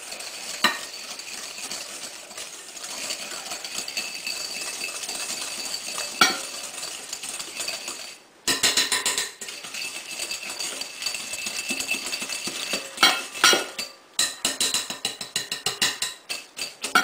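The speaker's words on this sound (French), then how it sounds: "Alors, avec les jaunes, vous mettez le sucre. Vous mélangez bien." Egg yolks and sugar are mixed by hand in a bowl for a strawberry tiramisu, with a steady run of close scraping and clinking strokes for about seventeen seconds, briefly pausing midway and turning choppier near the end, with no talking.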